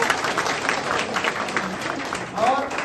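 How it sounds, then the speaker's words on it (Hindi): An audience in a Dadar office hall claps for first-time attendees, a dense burst of applause that swells again near the end while a voice carries on over it. "जोरदार तालियां नए लोगों के लिए"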